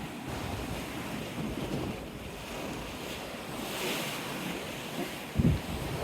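High-tide ocean surf beside a lighthouse on a back beach, a continuous rolling wash of waves mixed with gusty wind buffeting the microphone, moderately loud and steady with a brief low thump near the end, no voices.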